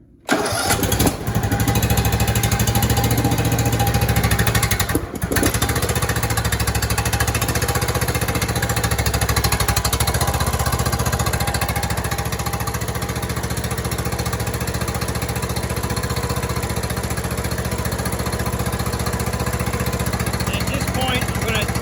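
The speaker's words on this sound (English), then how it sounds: "I just want to get it to start and bring it down to idle." Briggs and Stratton small engine, one diagnosed for blowing white smoke, starts with a brief burst and then runs with a loud, steady, close idling chug through the rest of the clip, with a short dip near five seconds.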